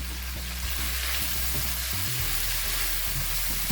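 Chicken is added to vegetables frying in a pan for a one-pot fajita rice, giving a steady, fairly loud hiss of sizzling with a few soft low knocks from the pan.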